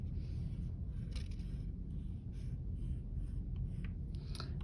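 Crayon rubbing across paper while decorating a background, a soft continuous scratchy scribble with faint strokes repeating close by under a steady low hum, no speech.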